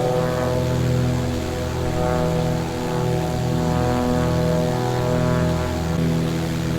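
Steady, loud drone of a propeller airplane engine in Microsoft Flight Simulator, holding an even pitch with slight swells throughout, heard alone without talk.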